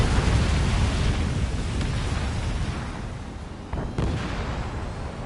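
Missile launches and explosions in Ace Combat 7 on PS5 form a dense, continuous roar of rumbling blasts that fills the scene, with a brief dip and a sharp jolt of impacts near the end.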